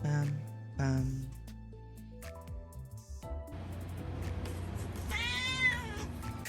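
A loud house cat meowing, several distinct meows and a drawn-out cry near the end, close by, with a person talking in between.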